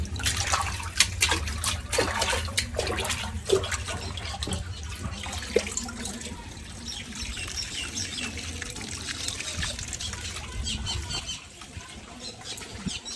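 Water pours and splashes steadily into a home aquarium of colourful fish during a full water change, a continuous close gurgling rush with faint trickles and bubbling, fading slightly near the end.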